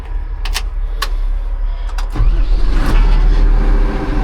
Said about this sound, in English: I can't believe how well this one just fires right up